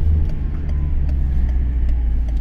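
A Fiat Ulysse 2.0 JTD diesel minivan accelerates in second gear, its engine and road noise forming a steady, loud low drone with faint ticking on top.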